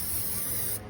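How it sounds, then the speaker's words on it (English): Simple Green cleaner is sprayed onto an RC car during pre-race maintenance: one steady, close hiss of spray lasting most of a second before it cuts off. "I'm going to spray this down."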